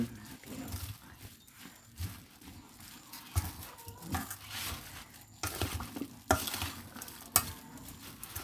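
Mushroom larb with onion being stirred in a pan, soft scraping and tossing strokes with a light sizzle underneath, irregular and fairly quiet, no talking.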